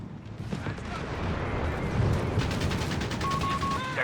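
Artillery counter-battery shots in the strategy game Company of Heroes 3, a dense rumbling barrage of booms and crashes with sharper bursts near the end.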